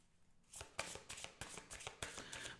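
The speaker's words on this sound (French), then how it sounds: "Je vais rajouter une carte." A deck of playing cards is shuffled and dealt out in quick, close, crisp riffles and snaps, starting after a short quiet moment and continuing in a steady rhythm.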